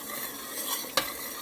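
Sugar syrup for jalebi boils in a pot with a soft, steady bubbling hiss close by, broken once by a single sharp clink of a spoon against the pot.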